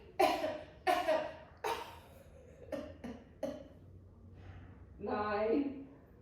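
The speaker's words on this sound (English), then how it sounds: "That's a sympathy cough." Several short, sharp coughs come in quick succession during a Pilates workout, followed by a brief voiced sound, all fairly quiet against a calm room.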